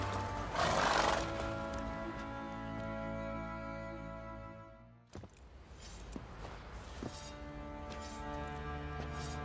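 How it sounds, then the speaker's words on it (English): A horse whinnies loudly in The Witcher 3, followed by a brief break and then hooves and tack clinking close by, with no talking. "Whoa there, Roach."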